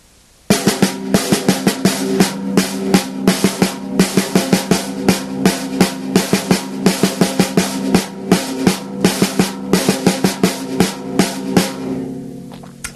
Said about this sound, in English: So if on the first, third, and fourth strokes we play doubles, it looks and sounds like this.